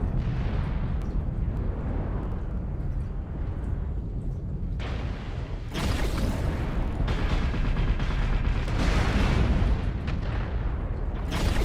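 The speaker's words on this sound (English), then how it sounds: "Look, everybody's shooting lerms at me" Incoming LRM missile fire in a mech combat game, a dense, loud barrage of explosions and booming impacts that thickens partway through and keeps pounding steadily without speech.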